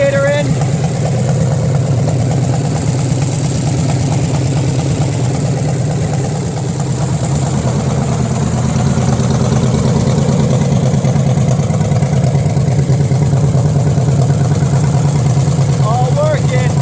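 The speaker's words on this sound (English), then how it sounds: "at least it's now idling on its own" A jeep engine idles steadily and close by, a low continuous rumble that stays even throughout.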